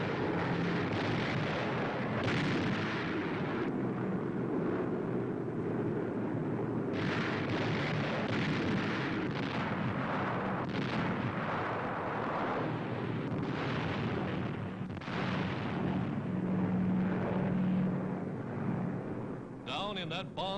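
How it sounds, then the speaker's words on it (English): WWII aerial bombing pounds Japanese shore positions at Salamaua, New Guinea, in 1943: a dense, continuous rumble of blasts and booming impacts, loud throughout, with a narrator's voice running over the bombardment. "Over Salamaua, the big Jap base on New Guinea, shore positions are pounded from the skies."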